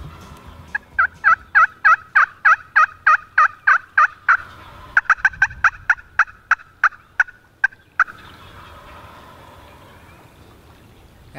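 A wild turkey gobbles during a spring Michigan hunt: a rapid series of about twenty sharp, loud gobbling calls, pausing briefly midway, then a stretch of quiet outdoor background.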